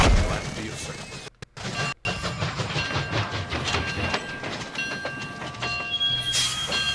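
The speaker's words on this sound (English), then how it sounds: "All we need now is a train." A train rumbles along in Disney Infinity with a loud, steady rolling clatter and a few high tonal whistle-like lines. Several short dropouts break the sound early on, and a voice talks over part of it.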